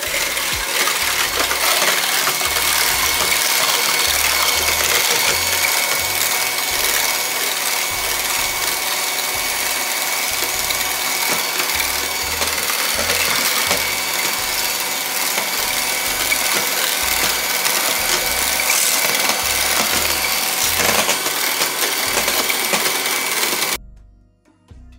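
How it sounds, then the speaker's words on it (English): Electric mixer whisking a homemade strawberry ice cream base, a loud steady motor whir with rhythmic rattling beaters running for over twenty seconds before cutting off abruptly near the end. "you mix it in the mixer"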